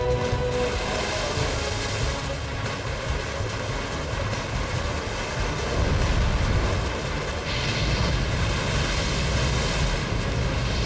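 Giant tsunami waves crash and roar as a dense, continuous wall of surging water and wind-like rumble, loud and unbroken throughout, with no voices.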